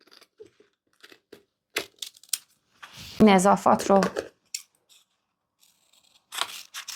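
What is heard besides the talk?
cutting fabric at the shoulder with scissors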